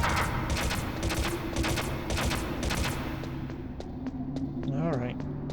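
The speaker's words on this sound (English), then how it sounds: "Machine gun." Machine gun fire in the video game Metal Gear Solid, rapid repeated bursts of gunfire over constant game rumble, thinning out toward the end where a brief voice-like sound appears.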